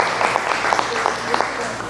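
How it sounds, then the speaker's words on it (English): An audience at a community pre-gathering for a halal food festival claps briefly, with scattered individual hand claps standing out over a crowd murmur and some talk underneath. "Now you can clap for everybody."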